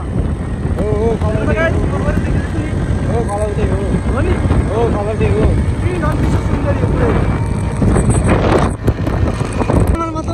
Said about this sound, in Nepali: चिसो हावा आउँदो रहेछ।